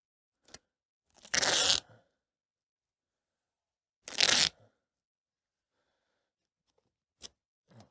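Automotive masking tape torn off a roll in two short ripping bursts, applied around a Ford car headlight, with brief soft taps in between and quiet pauses.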